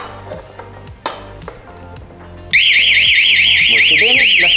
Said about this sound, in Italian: Molto bene, la sirena suona.